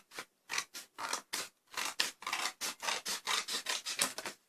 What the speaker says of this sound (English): Now all we gotta do is we gotta cut it out.